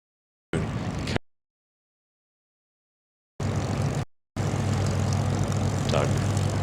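A Spitfire-era propeller aircraft, MH434, flies past at the Goodwood Revival, its steady engine drone sustained and fairly loud, arriving in short bursts then holding continuously.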